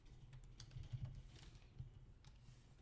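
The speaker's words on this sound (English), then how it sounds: "Now I'm going to type in pickup." Typing on a computer keyboard while setting up a pickup mission, a quiet run of soft irregular key clicks with a few firmer taps, close and alone with no talk.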